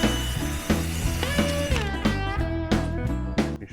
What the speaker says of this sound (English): Drill sounds like it's dying already.